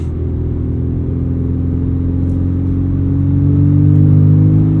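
A 1995 Porsche 968 with a modified exhaust that has no mufflers gives a loud, deep, steady engine drone from inside the car, with a low rumble that swells slightly toward the end.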